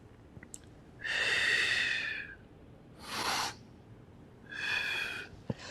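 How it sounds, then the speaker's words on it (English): Slow, deep breaths during a Pilates core exercise, three long airy exhales in a steady rhythm, close and clear in a quiet room. "Breathing in, breathing out, breathing in, breathing out."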